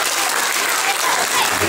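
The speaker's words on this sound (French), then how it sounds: "applaudissements s'il vous plaît" An audience at a Christmas show applauds after Father Christmas is called up, a loud, dense wash of clapping sustained throughout.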